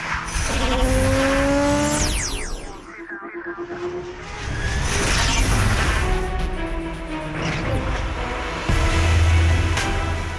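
A Ford Mustang with a 3.7-liter V6 revs and drives hard, its engine note sweeping up and down between gear changes with a brief tire squeal, loud and close, no talking.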